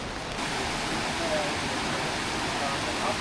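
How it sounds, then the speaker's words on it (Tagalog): Heavy downpour in Wulai, a steady dense broadband hiss of pouring rain filling the scene evenly from start to finish, loud and close with no pauses. "di naman namin nire-expect na uulan ng ganito kalakas"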